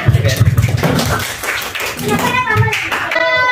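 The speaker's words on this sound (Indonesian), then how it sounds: "Tepuk tangan yang meriah." Rhythmic clapping bursts from a school audience at a Ramadan pesantren kilat session, quick even claps at first that give way to speaking voices and children's chatter.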